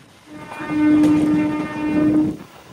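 The Visakhapatnam–Parvatipuram MEMU Express runs on the East Coast Railway's Waltair division at up to 110 km/h, its horn sounding two steady blasts over a low rolling rumble.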